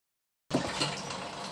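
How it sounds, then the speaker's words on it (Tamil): Ground spice paste for a country chicken curry pours into a cooking pot after a moment of silence, producing a sudden, sustained wet hiss and rush that stays steady to the end. "சாந்து ஊற்றிடலாம்."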